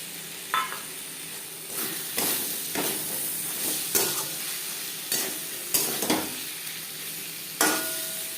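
Spices fry on a medium flame while a utensil stirs them, a steady sizzle punctuated by about eight sharp scraping strokes at a roughly regular pace, close and clear with no talking.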